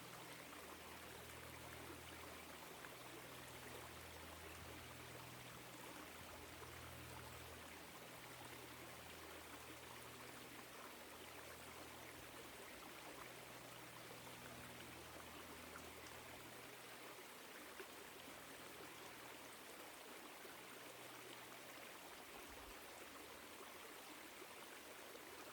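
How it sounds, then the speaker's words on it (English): A woodland stream in autumn flows steadily with a constant watery rush and trickle, soft and even throughout, with no voices. "taking a moment to appreciate this stream"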